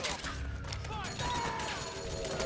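Rapid gunfire in Metal Gear Solid 4, a dense crackle of shots rolling through a noisy battle scene, with shouted voices over the top.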